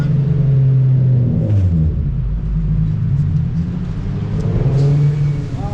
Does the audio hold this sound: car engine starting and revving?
yes